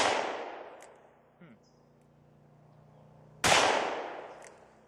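Two loud revolver shots, from an S&W Mountain Light or Heritage Rough Rider at a 7-yard range, crack a few seconds apart, each ringing out and decaying, with faint handling noise between them.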